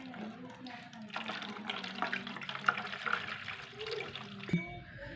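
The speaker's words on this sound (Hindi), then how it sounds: "तो फिर इसमें पानी डालना शुरू करते हैं।" Water pours and splashes into a homemade rechargeable cooler, a steady close rushing with no voices.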